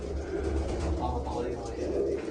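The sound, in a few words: pigeons cooing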